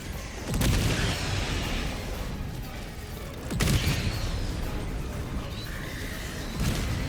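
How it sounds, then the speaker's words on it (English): Orbital strike explosions in the video game Helldivers 2 during a bug nest fight. Three heavy booming blasts arrive a few seconds apart, each with a sharp crack and then a long rumbling roar. "Firing orbital strike."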